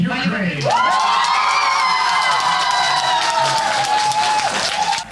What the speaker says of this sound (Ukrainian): Кожна дванадцятка викликала овації